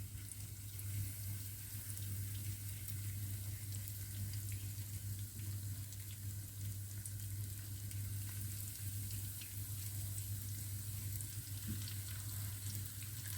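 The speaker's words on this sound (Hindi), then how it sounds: "फ्राई पैन में, और मैं इसमें ये स्टिक डाल रही हूँ। इसको मीडियम आंच पे फ्राई करेंगे।" Chicken pieces fry in a frying pan over medium heat, a steady, even sizzle and hiss that carries on unbroken throughout with no talking.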